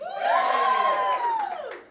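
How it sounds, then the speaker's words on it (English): Studio audience at a live jazz comedy rap show cheering and whooping together, a loud rising-and-falling crowd shout lasting about two seconds before tapering off. "Give a cheer for something silly."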